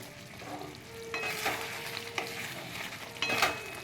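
Dahi chicken finished with fresh cream bubbling and thickening in a pan, a soft, low sizzle broken by a few spoon stirs and scrapes, close and fairly quiet.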